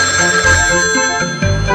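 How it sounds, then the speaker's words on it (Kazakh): A telephone ringtone plays close and loud, a steady electronic ringing tone that carries on through the whole moment without any voices. "Телефон."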